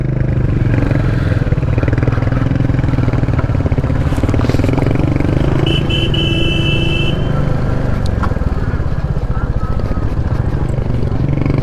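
A Royal Enfield Hunter 350 motorcycle engine drones steadily on a rough, narrow mountain road in Uttarakhand, a close, continuous rumble with wind and rattles over it while a voice talks intermittently.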